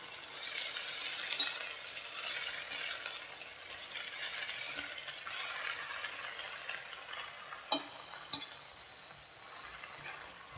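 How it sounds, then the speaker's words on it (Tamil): Fenugreek greens cooking down in a pan for a chapati meal, a soft continuous hiss of steam and gentle frying with two brief clicks near the end, close and without voices. "பாருங்கள், வெந்து வரும்போது கம்மியாகும் கீரை."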